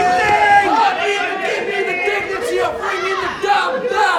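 A crowd at a live wrestling show cheering and chanting, loud and continuous for several seconds, with shouts and a commentator's voice running under the noise.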